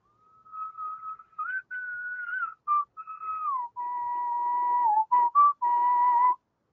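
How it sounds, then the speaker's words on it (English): A person whistles a bright, wavering melody in several sustained phrases with short breaks between them. The whistling is loud, close and alone. "that is some expert whistling"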